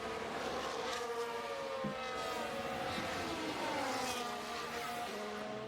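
Several F1 V8 engines in F1 Manager 2023 wail at high pitch, rising and falling as cars pass in a continuous, loud layered drone with no speech over it.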